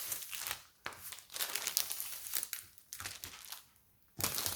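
Sticky plastic film peeled off a diamond painting canvas in several long crinkling, tearing pulls with short pauses between, close and moderately loud.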